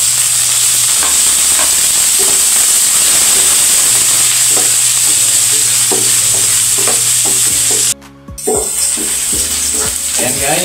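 Onions sautéing in oil with golden-browned garlic, a loud, close sizzle with frequent rhythmic scrapes and taps of a spatula stirring, briefly cutting out for a moment near the end before resuming.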